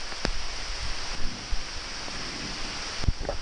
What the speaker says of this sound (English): And now we're getting rained on.